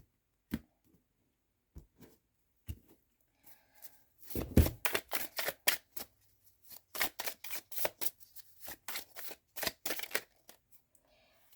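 A tarot deck is cut and shuffled with scattered single card taps, then a run of crisp, close riffling flicks and slaps in irregular bursts, with quiet gaps between.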